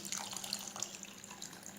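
Water running steadily into a cup, about half filled, as part of making a gelatin-and-glucose cream dessert; a continuous close splashing stream with no talk.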